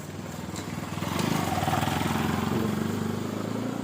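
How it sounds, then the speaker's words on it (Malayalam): A motorbike approaches and passes close by on a street, its engine rising to a steady mid-pitched drone and fading slightly, heard alone without talk. "അയ്യോ താണ്ട 2 വീലർ വരുന്നു. ബൈക്ക്"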